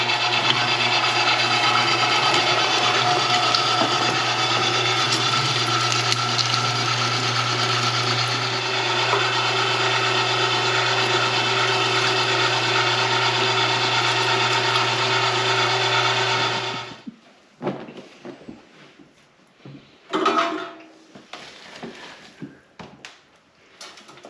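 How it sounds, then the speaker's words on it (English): Electric meat grinder grinding venison, a steady loud mechanical whir with a grinding, ratcheting texture running for about sixteen seconds before cutting off abruptly, followed by scattered light clatter and handling noises. "drop a few pieces in so it doesn't run dry, and then turn it on. We're gonna get grinding."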